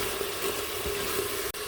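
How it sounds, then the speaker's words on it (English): Onions and garlic sauté with veggie broth in an Instant Pot, a steady watery hiss and gentle bubbling sizzle, close and even, with a brief dip near the end and no talking. "While those are sauteing, I like to put in a little veggie broth just to help them cook down"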